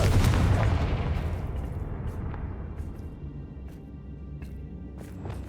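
A Confringo blasting spell explodes in the Hogwarts Legacy video game, opening with a loud booming blast that rumbles and slowly fades, followed by scattered sharp pops and crackles.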